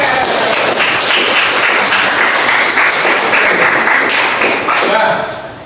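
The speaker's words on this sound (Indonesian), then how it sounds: "Keren sekali, tepuk tangan." A classroom of students clapping in a loud, dense burst that holds steady before tapering off at the end, with some voices mixed in.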